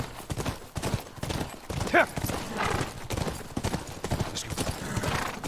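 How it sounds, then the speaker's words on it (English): A horse in The Last of Us video game clip-clops with rhythmic hoof beats close by and gives one brief whinny, all under steady talking. "That's our horse"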